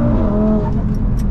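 A 520hp stage 2 plus tuned Audi RS3 pulls hard at full throttle on a night road, its engine note loud and close, rising in one sharp burst before easing off.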